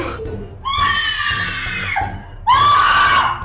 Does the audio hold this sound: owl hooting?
no